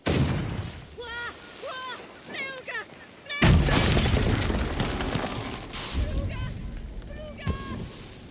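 A detonation in Assassin's Creed Valhalla goes off as one loud, sudden boom with a crackling, shattering tail and a long rumble, following a stretch of plain talk, with voices continuing over the aftermath.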